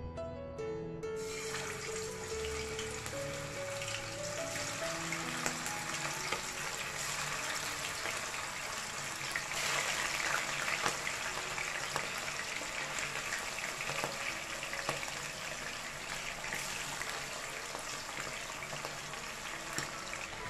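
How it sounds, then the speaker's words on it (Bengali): Marinated chicken fries in a pan over medium-high heat, giving a steady, dense sizzle that runs unbroken for about twenty seconds. "এবার ওই একই প্যানে আমি আগে থেকে যে চিকেনগুলোকে ম্যারিনেট করে রেখেছিলাম সেগুলোকে ফ্রাই করে নিব।"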